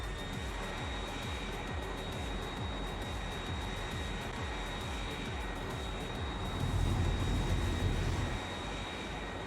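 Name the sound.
airplane flying in Factorio (Cracktorio) video game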